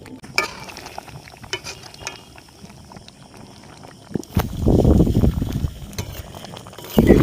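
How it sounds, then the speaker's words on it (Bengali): Chicken curry with potatoes simmering uncovered in a pan, a soft bubbling texture that swells loudly partway through, with scattered stirring clinks and scrapes around it. "আমি আরো 10 মিনিট তরকারিটাকে ফোটাবো"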